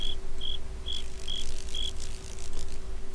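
Crickets chirp in Minecraft, five short evenly spaced high chirps over a low steady hum, fairly quiet and with no talking.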